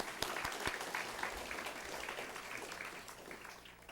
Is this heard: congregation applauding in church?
yes